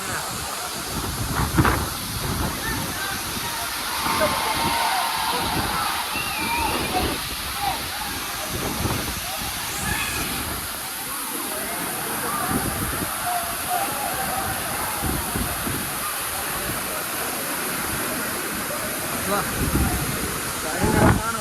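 Agaya Gangai waterfall in the Kolli Hills, a steady roaring rush of falling water after a sudden surge in flow, broadband and constant throughout with faint voices of people nearby.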